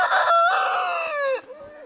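A Nagoya Cochin rooster crows once nearby, a loud, harmonic call that holds for over a second and then drops off sharply, leaving faint soft bird sounds.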